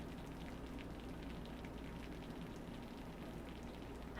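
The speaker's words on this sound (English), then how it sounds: "If you listen, you can still hear them sizzling." Freshly baked cheesy scalloped potatoes sizzle with a faint, steady crackling hiss, quiet and unbroken for a few seconds, with no talk.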